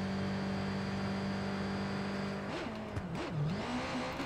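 A motorcycle engine in the video game Watch Dogs 2 hums steadily, then revs up and down in several quick surges near the end, loud and close, alone with no speech.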